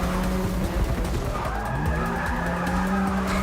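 Tires skid and squeal loudly as a car drifts through a turn in the racing game Forza 6, engine droning underneath, a steady continuous screech lasting throughout.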